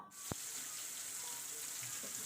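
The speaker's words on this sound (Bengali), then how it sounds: "এবার একটু মাছ ভাজা হয়ে গেছে" Rohu fish fillets frying in a pan, a steady hissing sizzle of hot oil filling the whole stretch, with one sharp click near the start and no voices.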